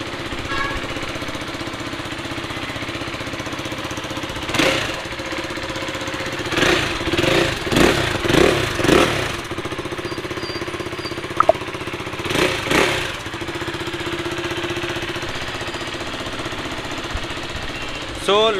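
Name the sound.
KTM RC 390 motorcycle engine running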